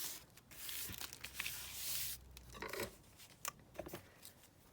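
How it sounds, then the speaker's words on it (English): Ticket paper is folded in half for a crafting project, giving close, crisp crinkles, rustles and scraping creases in irregular bursts, quiet and with no talking. "So again, I'm just going to fold that in half."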